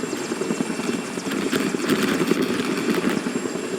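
Helicopter in the video game MTC4 flying nearby, a steady rotor thrum with a broad whooshing engine roar that holds fairly loud throughout, no talk over it.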